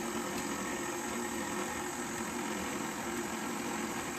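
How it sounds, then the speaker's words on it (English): A KitchenAid stand mixer runs on slow speed while chocolate is mixed into truffle cookie dough, a steady close motor hum and whir with no pauses and no voices. "I'm going to turn on my KitchenAid just to slow, and I'm going to slowly incorporate the chocolate."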